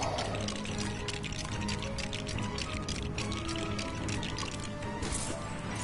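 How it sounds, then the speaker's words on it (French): A steady, hissing spray of water gushes continuously from a water cannon in the video game LEGO Marvel Super Heroes, loud and close, with a splashing, liquid texture and no pauses. "C'est un canon à eau, c'est ça?"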